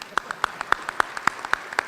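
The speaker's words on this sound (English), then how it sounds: "give our elected officials a round of applause" A small breakfast audience claps for elected officials, sparse, sharp hand claps falling in a quick, fairly regular rhythm, close by and with no one talking.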